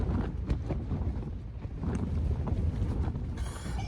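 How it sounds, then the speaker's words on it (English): Wind on a Dartmoor campsite in fog roars and buffets steadily against the microphone and a Terra Nova Voyager 2 tent, a constant low rumbling gust that never lets up. "Wind's picking up, just measured it. 17 point something."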